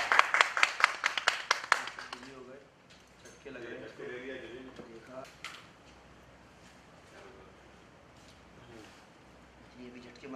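Studio audience on a TV serial location shoot bursts into a short, dense round of clapping for about two seconds, then it fades out and the talk and ambient noise continue.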